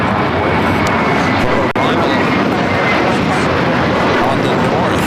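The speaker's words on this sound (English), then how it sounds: "Norse Flight 711 coming in from London Gatwick on a 787-9 Dreamliner" A Norse Boeing 787-9 Dreamliner arriving at LAX from London Gatwick produces a loud, dense, steady jet roar close by, with a brief dropout partway through and no talk.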